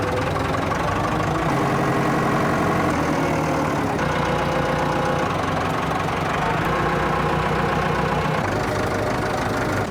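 A Massey Ferguson 165 4x4 tractor engine runs steadily at a low, loaded idle while driving on a muddy road with a trailer, a continuous heavy diesel rumble that stays loud and close throughout.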